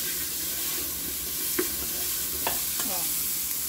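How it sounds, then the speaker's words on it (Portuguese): Onion and colorau (annatto) sizzle in a hot pan for mocotó, a steady close frying hiss broken by a few light stirring scrapes. "eu vou colocar aqui a cebola e vou colocar colorau"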